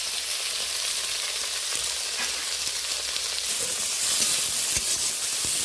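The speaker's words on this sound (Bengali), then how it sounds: "ফোড়নের সাথে কাঁচা লঙ্কা, পেঁয়াজ, 2 টমেটো বেশ ভালো করে কয়েক সেকেন্ড ধরে নেড়ে চেড়ে নরম করে নেব।" Halved green chilies, chopped onion and tomato fry in a hot spice tempering, a loud steady sizzle and hiss with occasional stirring scrapes, growing slightly brighter toward the end.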